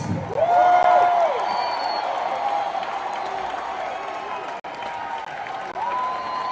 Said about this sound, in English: Make some noise for Fox.